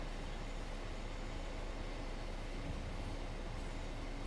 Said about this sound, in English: As we roll into Milton Keynes with our train full of boxes of stuff from